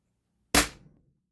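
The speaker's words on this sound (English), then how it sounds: "Shorty AK, no suppressor." A single sharp gunshot from a short AK rifle without a suppressor, one loud crack with a quickly fading tail, otherwise quiet around it.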